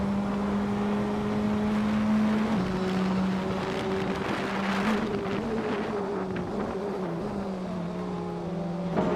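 Engine drone of race cars in a racing video game, including a 2017 Audi RS 3 LMS, a steady buzzing hum with shifting pitch and overlapping passes, continuous without talk.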